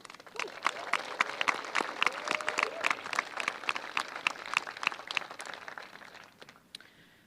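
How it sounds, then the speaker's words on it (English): Convocation audience at a spring engineering ceremony claps steadily in a dense, even wash of applause, with a few sharper claps standing out; it tapers off near the end. "Please give these students a round of applause."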